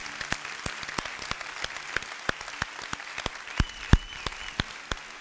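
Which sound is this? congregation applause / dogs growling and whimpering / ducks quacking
congregation applause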